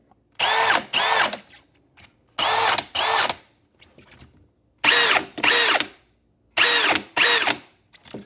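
A Milwaukee M18 Fuel brushless cordless drill running in short bursts, paired whirring spins that rev up and stop, four pairs with brief pauses and faint clicks between, close and clear without talk.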